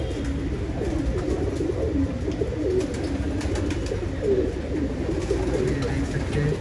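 Pigeons at a fancier's loft in Jamshedpur, Jharkhand, coo continuously in overlapping low, throaty calls over a constant background hum, with no pauses throughout.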